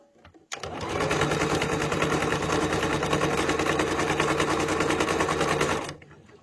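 A sewing machine with a buttonhole foot runs steadily for about five seconds, stitching a buttonhole in one continuous close whirring burst that starts and stops abruptly, with no talk over it.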